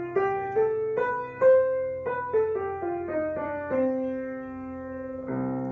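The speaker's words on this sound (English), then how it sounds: "this is a minor major chord" A piano plays a sequence of single notes and chords, moving from a darker minor to a brighter major chord, moderately soft and alone, with lingering sustain at the end.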